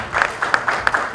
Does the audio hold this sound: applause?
yes